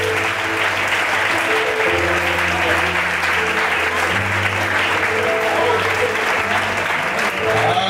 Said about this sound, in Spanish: Dale un fuerte aplauso a la palabra del Señor